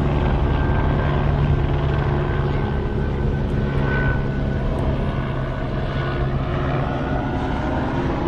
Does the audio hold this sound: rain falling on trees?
no